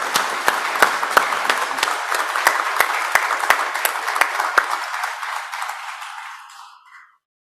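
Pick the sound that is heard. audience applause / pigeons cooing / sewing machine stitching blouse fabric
audience applause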